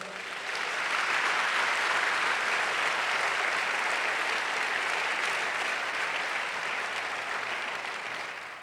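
A church congregation applauding at length, with sustained, dense clapping that fills the room evenly for several seconds with no speech over it.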